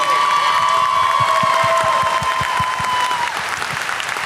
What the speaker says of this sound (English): can you give a huge, huge round of applause for Steve?